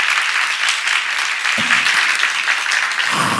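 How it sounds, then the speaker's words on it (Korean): Church congregation clapping vigorously during a sermon, a dense, steady wash of applause from many hands that carries on throughout, with a brief voice breaking in near the middle. "박수 세게 쳐요."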